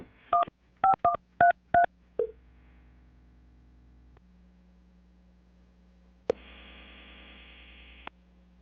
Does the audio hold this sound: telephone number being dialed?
yes